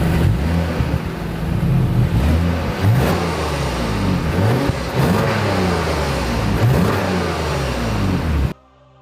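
A 3.5-liter V6 car engine revs and accelerates in repeated surges, loud and close, with rising and falling pitch, then cuts off abruptly at the end.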